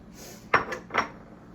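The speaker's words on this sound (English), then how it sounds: "So now I'm adding the tomatoes." Tomatoes added to a pot while making chicken and rice, two quick metallic clinks of a utensil or can against cookware over a quiet background.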